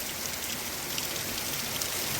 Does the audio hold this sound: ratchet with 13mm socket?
no